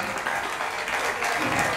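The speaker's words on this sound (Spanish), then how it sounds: "Un fuerte aplauso" A crowd applauds at the trophy presentation of a regional motor racing speed championship, with dense, steady clapping from a sizable audience throughout.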